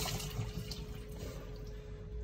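Hot water runs steadily from a bathroom tap in a 2024 CrossRoads Hampton 388FKL RV, making a continuous close rushing hiss with no talk over it.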